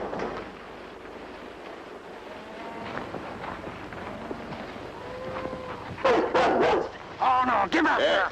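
A dog named Brown barks in a short burst of loud yips near the end, following steady background noise and scattered speech from men in a 1960 western scene.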